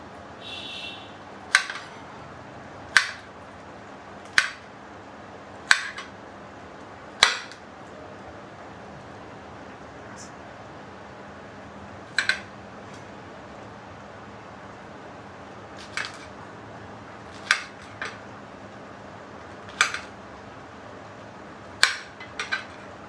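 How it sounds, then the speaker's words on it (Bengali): A knife chopping okra finely on a board, heard as sharp, crisp taps spaced a second or two apart with short pauses between runs, close and clear over a quiet kitchen background with no talking. "এই যে ভেন্ডি কাটা শেষ, কুচি কুচি করে কাটা কমপ্লিট।"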